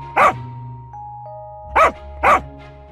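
Dogs attacking a thief let out three loud, sharp barks, one near the start and two close together near the end, with a faint tonal hum between them.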